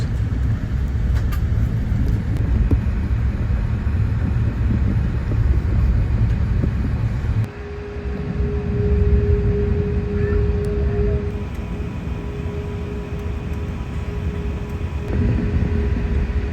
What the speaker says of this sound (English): It's now time for takeoff on runway 12 right.